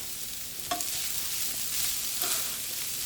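Onions fry in a pan with a constant soft sizzle and crackle, steady throughout, with a faint utensil clink near the start.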